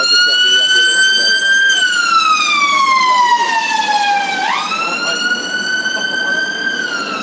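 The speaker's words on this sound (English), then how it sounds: "I'll just let the ambulance go." An ambulance siren wails loudly nearby on a central London street at night, its pitch sliding down as it passes, then rising again, with traffic rumble underneath.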